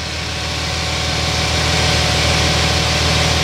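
A 2007 Chevrolet Silverado 4x4 pickup with a 4.3-liter engine idling close by, a loud, steady low rumble with constant vibration and no talking.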